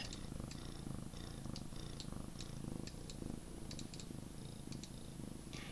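A house cat purrs right at the microphone, a steady rhythmic rumble of in and out breaths that continues unbroken and alone.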